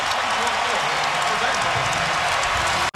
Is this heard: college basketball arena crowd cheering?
yes